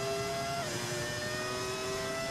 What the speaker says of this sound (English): Oh, V10, oh how I've missed you. They're back. V10 engine sound.